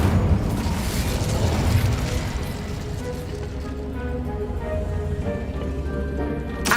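An Incendio fire spell in the video game Hogwarts Legacy bursts out with a loud, low roaring blast. It rumbles on as a dense, sustained whoosh and gradually thins toward the end.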